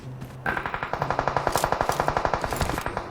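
Rapid automatic gunfire in PUBG Mobile rattles off as a fast, even burst of some twenty close, loud shots after a short quiet lead-in.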